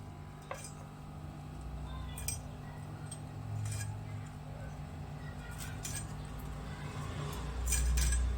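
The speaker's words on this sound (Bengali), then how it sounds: "আঁশগুলো আমি পরিষ্কার করে নেবো তোমরা চামচ দিয়েও ওইটা করতে পারো কিন্তু আমার এই দাও দিয়ে করতে সুবিধা হয়" Scales being scraped off an amudi fish with a dao blade, heard as faint, irregular clicking and scratching strokes at close range over a low room hum.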